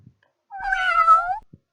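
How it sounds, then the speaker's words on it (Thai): A single drawn-out cat meow, clear and fairly close, with brief quiet clicks just before and after. "เสียงแมวใช่ไหมคะ เสียงแมว"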